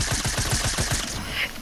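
Automatic gunfire in a Fortnite duo match, a rapid, evenly spaced burst of loud shots that stops partway, leaving quieter game noise behind.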